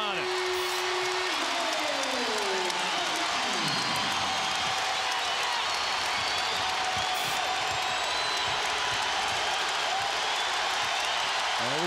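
A basketball arena crowd cheering during a Louisville versus Pittsburgh college game in 2009, a dense sustained roar filling the whole clip, with a commentator talking over it at the start.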